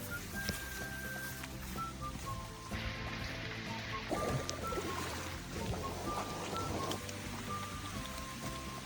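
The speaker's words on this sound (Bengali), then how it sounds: "আজকে বৃষ্টি হচ্ছে" Rain falling in the hills of Sitakunda near a stream trail, a faint, steady patter of drops over running water with no talking.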